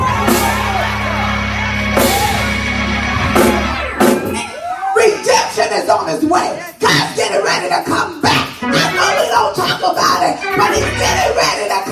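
A church congregation screams, shouts and whoops during a preached message, loud overlapping crowd voices in bursts after a preacher's amplified speech.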